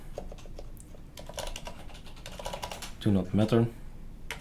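Keys clack on a computer keyboard in short bursts of close, quick taps, mixed with someone speaking briefly midway.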